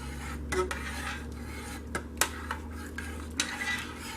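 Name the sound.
stirring homemade liquid dish soap solution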